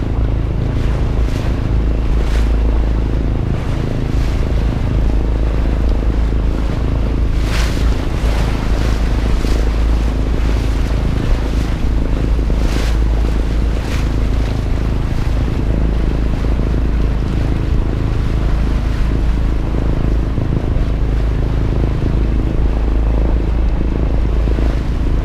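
A sailboat is tossed by waves while crossing the Columbia River Bar, with a constant loud rush of water and wind buffeting the microphone, hull slaps and surges recurring through a long, unbroken stretch.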